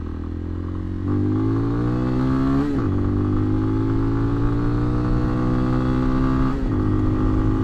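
A Lifan Xpect motorcycle fitted with a 17-tooth front and 41-tooth rear sprocket pulls away from a stop, engine note rising loudly through the revs, dipping at a gear change near three seconds and again near six and a half.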